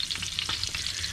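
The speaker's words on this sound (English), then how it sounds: "I'm just going to take these and I'm going to gently fry them on both sides" Lithuanian cabbage rolls frying gently in hot oil, a short close burst of steady crackling sizzle with soft stirring bumps and no voices.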